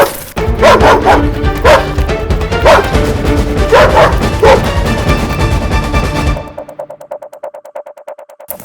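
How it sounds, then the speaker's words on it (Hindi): A pack of wild dogs in Rajasthan scrubland barks loudly and repeatedly in overlapping yips and bow-wows for about six seconds, then the noise drops away abruptly to quieter trailing sounds. "लेकिन जंगली कुत्ते जरूर आ रहे हैं, भागना पड़ेगा"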